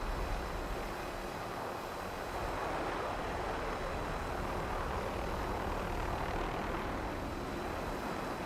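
A helicopter in the Black Ops 7 Warzone video game drones continuously overhead, a loud steady rotor and engine roar that fills the whole stretch with no voices.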